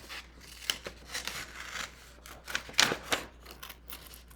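Scissors snip around a crayon-colored paper leaf in a series of short, close, crisp cuts and rustles of paper, quiet and without talk.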